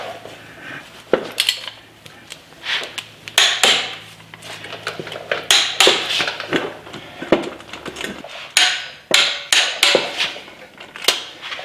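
Wheel hub bolts on a Ferrari are tightened during a wheel bearing replacement, giving a series of sharp metallic clicks and clanks of a wrench in irregular bursts, close by, with no one talking.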